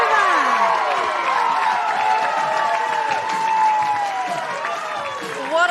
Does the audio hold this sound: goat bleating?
no